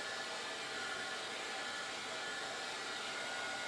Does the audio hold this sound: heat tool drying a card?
yes